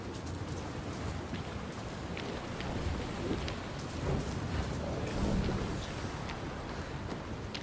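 Steady rain pours down in the video game Senua's Saga: Hellblade 2, a dense, even wash of falling water with faint low rumbles swelling now and then, no voices.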